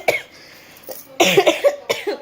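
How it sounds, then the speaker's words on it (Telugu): A person coughs in repeated harsh bursts, a short cough near the start followed by a tight cluster of several loud, close coughs, then two more toward the end, with no talking in between. "విపరీతంగా దగ్గు వస్తుంది నాకు."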